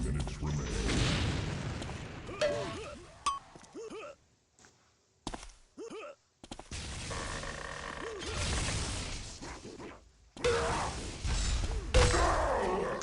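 Gunfire and repeated headshots in an Unreal Tournament 2004 duel match, heard as bursts of loud booming shots and thuds separated by short quiet gaps, with talk over parts of it.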